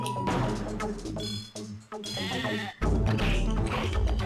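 Sheep bleat repeatedly in close, loud bursts with brief gaps between them, layered over a busy synthetic game soundscape in the Game Boy Advance game Tak and the Power of Juju.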